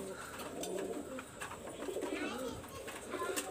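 Domestic pigeons, including Pakistani high flyers and Teddy birds, coo in low rolling murmurs in a loft, with a faint voice in the background.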